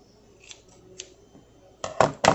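Knife or scissors cutting through a ham and bacon sandwich on bread with garlic spread and cheese, two or three close crunchy cuts near the end after a quiet start.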